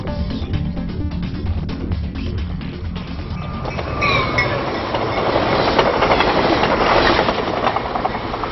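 A train runs along a railway track through a Jharkhand forest, rumbling and clattering over the rails, with a wheel squeal midway and the noise building louder toward the end.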